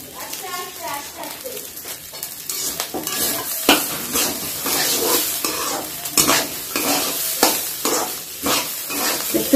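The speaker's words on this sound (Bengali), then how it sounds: "দেখতে পাচ্ছেন চাল একবারে ঝরঝরে ভাজা হয়ে গেছে" Rice being stir-fried in a pan for veg pulao, with a steady sizzle broken by repeated scraping and stirring strokes, loud and close throughout, with no talk.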